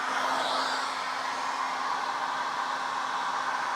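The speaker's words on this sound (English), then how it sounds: "That's the hairdryer" A hair dryer powered from an EcoFlow DELTA 2 Max portable power station blows a steady, even whoosh of air with a faint motor hum underneath, continuous and unchanging throughout.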